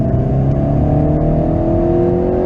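A car engine rises steadily in pitch as it accelerates during a driving lesson, a loud close drone with rising harmonic tones inside the cabin and no talk.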